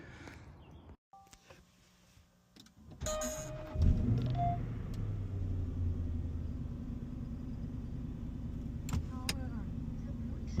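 A Jaguar XKR X150 prepares to set off on a long drive: first quiet cabin shuffling and a jingle of keys, then the engine starts with a sudden low rumble and settles into a steady, deep idle.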